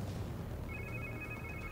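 Mobile phone ringing in Marvel's Spider-Man 2, a thin repeated electronic tone that enters partway through and sits faintly over low rumbling game ambience.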